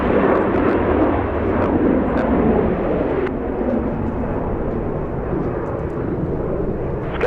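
SkyWest Embraer E175 jet taking off from runway 24 left at Los Angeles International Airport, a steady loud broadband engine roar held throughout with no talk.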